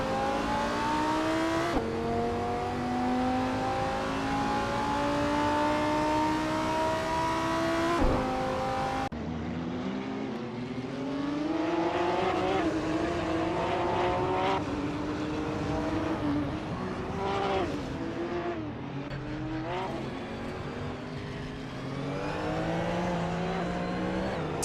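Race car engines roar continuously in a racing video game, rising and falling in pitch as cars accelerate and shift, with a sharp cut partway through, loud and steady throughout.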